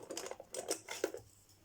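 A pen writing on a paper bookmark for a bookmark contest, giving a short run of close, light scratching and tapping strokes that fades into quiet near the end.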